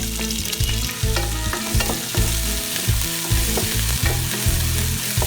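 Mustard seeds and finely chopped ginger frying in hot oil for tomato rice, a loud close sizzle with rhythmic stirring scrapes and popping crackles throughout, no talking.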